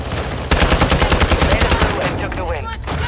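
Rapid automatic gunfire from a weapon in Warzone 2, a loud fast burst of about a dozen evenly spaced shots, followed by scattered quieter game sounds.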